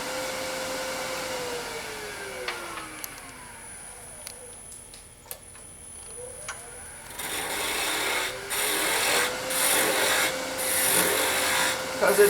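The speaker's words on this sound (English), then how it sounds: "So I also tend to use a skew in here as well." Skew chisel cutting a small wooden pendant ornament spinning on a lathe, a continuous whirring hiss with shifting tone as the tool moves, close and alone without speech.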